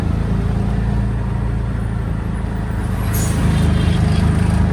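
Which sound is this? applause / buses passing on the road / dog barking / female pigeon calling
buses passing on the road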